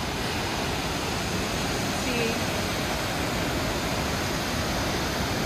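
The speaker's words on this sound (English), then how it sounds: "This is White River Falls" White River Falls pours in a constant broadband roar of rushing water, loud and unbroken, heard close from the hiking trail beside the canyon.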